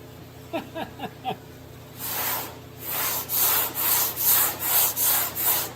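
A 1965 Chevrolet C10 body panel is sanded by hand with flexible 80-grit sandpaper, a few light scratchy strokes followed by a run of louder rhythmic rasping back-and-forth passes, close and steady.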